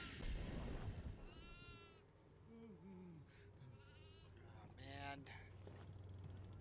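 Goats in the horror video game Devour bleat several times in wavering cries over a steady low game rumble, with no speech.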